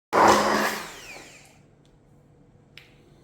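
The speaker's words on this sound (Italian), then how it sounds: "potete cominciare ad alzare il frullatore fino al totale montaggio" A loud electric blender whirs for about a second, then winds down and fades, leaving near silence with one faint click.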